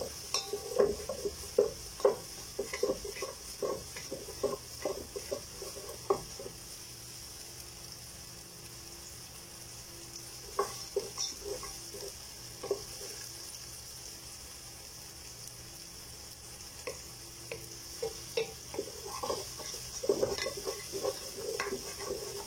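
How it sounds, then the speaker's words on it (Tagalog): A spoon stirs onion and ginger frying in a pan, with faint irregular scrapes and clinks over a low, steady sizzle. "Haluin lang."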